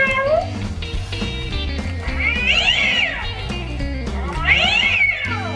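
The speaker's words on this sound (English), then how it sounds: "Look at this, the Brady cat. An old Halloween thing." Old animatronic Halloween cat toy letting out electronic meows and sung, cat-like melodic phrases, loud and close over a steady mechanical backing.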